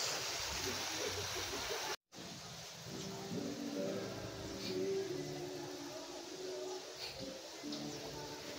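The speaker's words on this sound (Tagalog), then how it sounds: "Man-made siya na falls." Steady rushing water from a man-made waterfall in an eco park, a continuous broadband wash that runs throughout, briefly cut out once, with faint voices and occasional bird chirps over it.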